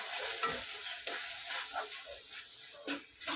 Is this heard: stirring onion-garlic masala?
yes